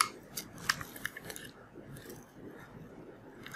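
Plastic bag crinkles and rustles as a GoPro camera is unwrapped from it, with a few sharp close crackles early on before the handling fades to a softer rustle.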